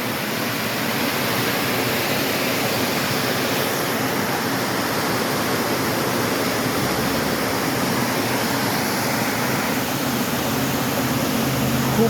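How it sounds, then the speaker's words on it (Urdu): A Smoky Mountains waterfall roars in a loud, steady broadband rush of water that stays constant throughout with no other sounds standing out. "آبشار، پانی کا شور."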